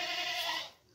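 A single goat gives a short, clear bleat close by, fading off at the end.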